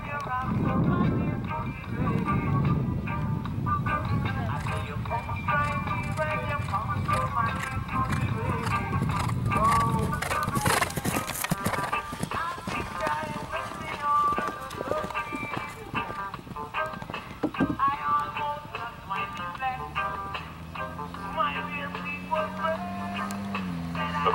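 Thoroughbred gelding galloping cross-country at an eventing competition, rhythmic hoofbeats under steady commentary, with crowd noise and a brief burst of louder activity midway.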